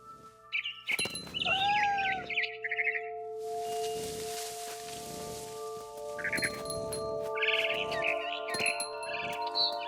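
Cat meowing amid chirping birds in the video game What Remains of Edith Finch, with rising tonal calls, rustling and a steady musical drone through a busy game scene, no talking.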